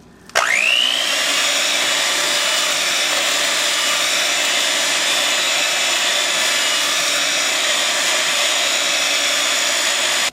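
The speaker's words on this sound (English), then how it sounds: "I'm going to use the one for the electric mixer with the wire attachment to speed up real quick." An electric mixer with a wire whisk attachment starts up and beats milk and pudding mix for a banana cream pie, holding a loud, steady whirring drone throughout.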